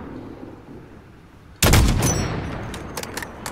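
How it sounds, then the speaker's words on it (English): Enemy gunfire cracks out in Call of Duty Modern Warfare: a sudden loud volley of shots, then a spatter of sharper, scattered reports echoing in the distance. "Look for the muzzle flash when they fire."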